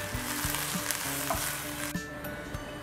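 Vegetables for an everyday Maharashtrian sabji are sautéed in a pan with chili powder, giving a steady close sizzle with soft stirring movements and a faint tonal hum underneath.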